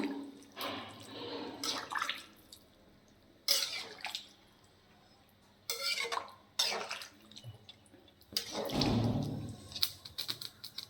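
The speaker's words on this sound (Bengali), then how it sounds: "আমি একটু গরম জল করে রেখেছি গরম জলটাই দিচ্ছি রান্নাতে" Hot water is poured from a vessel into a pot of chicken curry with new potatoes, heard as several separate splashing pours and trickles of moderate loudness, with quieter handling sounds between them.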